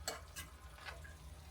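Steak frying in a pan gives faint, soft crackles and a few sharp sizzling pops over a low background hum, quiet and close with no speech.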